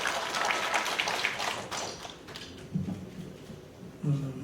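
Audience at the founding general meeting of the Jeju branch of the Korean Digital Poetry Association claps to welcome the Jeju Writers' Association president; the applause is fairly quiet and fades after about two seconds, followed by a few scattered knocks and clatters.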